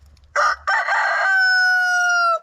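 A rooster on a farmstead gives a single loud, close crow, starting with a short rough burst and then stretching into a long sustained tone before cutting off, with no voices present.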